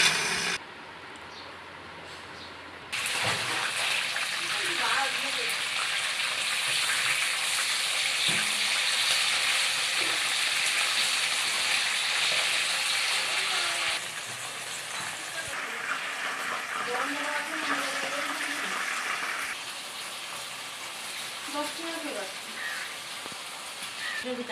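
A kitchen blender grinds onion, tomato, nuts, raisins and green chillies into a paste for morog polao, a steady loud whirring roar that starts after a short pause and shifts pitch partway through.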